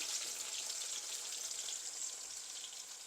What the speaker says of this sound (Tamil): இதுவும் ஃப்ரை ஆகும் இந்த கத்திரிக்காவும் ஃப்ரை ஆகிடுது